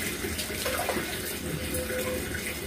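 Water running and splashing steadily while dogs are bathed, a continuous close wash of tap-like flow with small splashes throughout.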